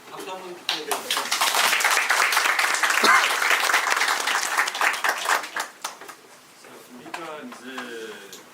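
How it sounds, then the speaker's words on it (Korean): An audience claps at a residents' briefing session on a neighbourhood redevelopment plan in Irwon-dong, Seoul: dense applause swells, holds for several seconds, then thins out to scattered claps. "박수 한번 부탁드립니다"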